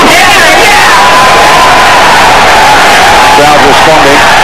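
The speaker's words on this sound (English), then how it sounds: "Crowd responding." A loud arena crowd roars and cheers at a heavyweight boxing match between Jorge Luis Gonzalez and Bryan Scott, with whoops and shouts rising above the continuous din.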